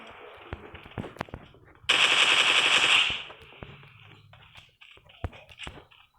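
Gunfire in a solo-versus-squad battle royale game: scattered sharp single shots around a loud, sustained automatic burst lasting about a second, then more isolated cracks.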